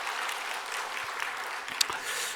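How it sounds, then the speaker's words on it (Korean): Applause from a congregation at a Wednesday prayer service after the choir's hymn, a short burst of continuous clapping from a room of people at moderate volume. "그러면 박수 한번 좀 한번"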